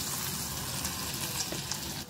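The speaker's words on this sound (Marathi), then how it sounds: "ही फोडणी आपल्याला ह्याच्यात ओतायची" Hot oil tempering with mustard seeds, cumin, asafoetida and green chillies is poured into bottle gourd batter, giving a loud, close, continuous sizzle and hiss that fades at the end.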